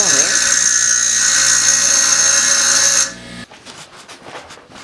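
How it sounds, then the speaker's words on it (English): A nail clamped in vice grips is ground down into a rivet shape with a power grinder, a loud steady high-pitched whine running close for about three seconds before cutting off, followed by quieter scraping and handling noise. "he's grinding it off to make a rivet type thing"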